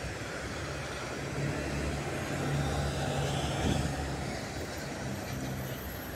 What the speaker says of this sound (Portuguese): Ó, outro carro aí.